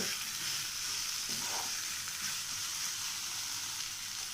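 Fried potato pieces are stirred into paneer and capsicum cooking in a pan, a quiet, continuous sizzle with faint movement from the mixing.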